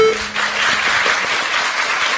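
An audience at a Korean public town-hall meeting claps together in a dense, even burst of applause heard close and alone.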